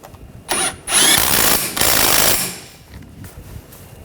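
A bolt on a Ford Escape engine mount tightened with a power tool, a couple of loud close bursts of buzzing, rattling impact, then fading mechanical clatter.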